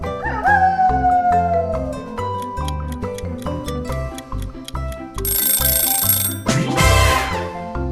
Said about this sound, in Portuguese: Um lobo.